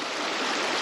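River water at about 150 cubic feet per second, rushing in a steady, loud, unbroken wash with no voices.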